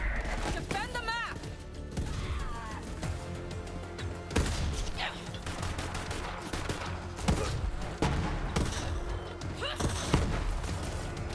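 Gunshots from a gun in Borderlands 3 crack out several times at uneven intervals, mixed in with voices talking and busy game sound.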